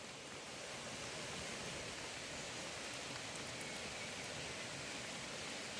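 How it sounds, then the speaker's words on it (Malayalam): Steady, even June monsoon rain hiss on a cardamom farm, constant and fairly loud throughout, with no voices or other distinct sounds on top. "ഇതുപോലെ മഴയത്ത് ജൂൺ നല്ല മഴയുണ്ട്"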